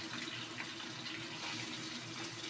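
Water is poured over ground garam masala spice powder to soak it, a soft, steady trickling stream that stays faint and even, with no voices.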